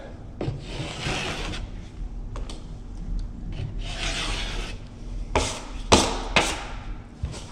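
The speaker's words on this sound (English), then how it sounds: "take my 6-inch knife, we'll start right there, and fill up this whole side" A 6-inch drywall knife spreads joint compound onto a corner during a third taping coat, producing repeated close scraping strokes in rhythmic passes with a few light taps, no speech.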